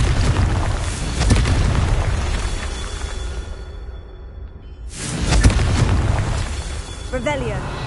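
A Confringo blasting spell from Hogwarts Legacy erupts in booming explosions, a loud burst, a brief lull, then another heavy blast with whooshing debris, while a voice talks over the action.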